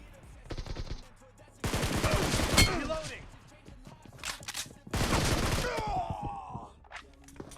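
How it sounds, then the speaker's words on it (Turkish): Gunfire in an online shooter video game comes in loud, rapid automatic bursts, several sustained volleys separated by short gaps, with a player's groans and sighs between them. "Bir de bana tabanca atmaya çalışıyor."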